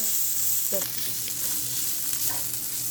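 Food frying in a pan, a steady close sizzle with brief scraping and stirring clicks, with faint background sounds and no clear talk.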